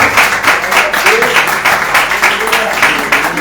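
A church congregation applauding together during a worship service, steady rhythmic clapping from many hands filling the room, with voices mixed in underneath.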